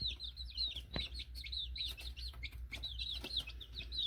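Eight baby chicks peep in a steady stream of high, chirping calls, with several birds overlapping close by and occasional soft clucking, no talk.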